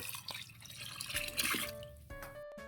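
Water is poured into a pot of Filipino sopas, a close splashing and trickling pour that runs steadily and then tapers off near the end.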